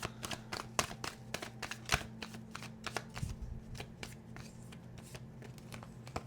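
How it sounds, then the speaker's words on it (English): Tarot cards riffle and flick rapidly in quick bursts of crisp snaps, close by, with a faint low hum underneath and no talking. "If I do 3 shuffles and nothing pops out, then I will pull it on the 4th shuffle"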